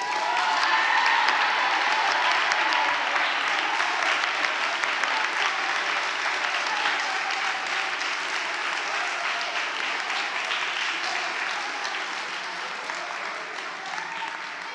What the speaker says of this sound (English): I heard lots of applause